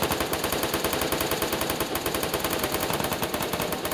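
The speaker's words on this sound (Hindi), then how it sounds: "एक सेकेंड गोली की बहुत तगड़े वाली आवाज़ आ रही है" Dense, loud automatic gunfire in the video game Free Fire, a continuous rapid burst of shots that never lets up.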